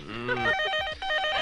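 A telephone in a film scene rings with a rapid trilling bell, two bursts separated by a brief gap, loud and close, set over low background sound.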